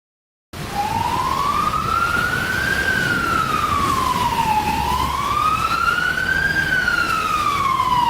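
An ambulance siren wails steadily in slow rising and falling sweeps, loud and near, sounding alone over a faint background rumble.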